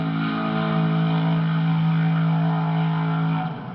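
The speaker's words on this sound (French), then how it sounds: "aujourd'hui l'ange conduit la machine du diable, sa E30 M3 Turbo" BMW E30 M3 Turbo drift car at a King of Europe drift event in Spain, engine holding a loud, sustained high-revving buzz for several seconds before easing off near the end.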